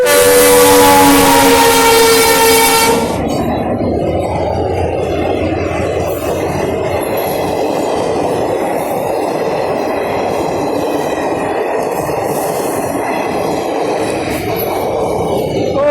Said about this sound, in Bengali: ট্রেন চলে গেল, বামুনহাটের ট্রেন এটা গাইস।